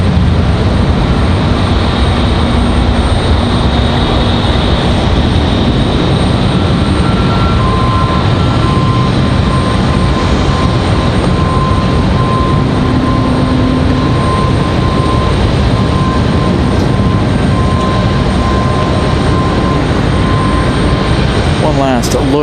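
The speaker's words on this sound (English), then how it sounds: "As we have the American departure." An American Airlines jet departs from Raleigh-Durham International, a loud sustained engine roar filling the whole stretch with a faint tonal whine running through it.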